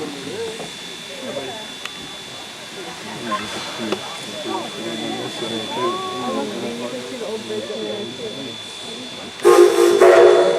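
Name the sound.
train backing up onto a steep switchback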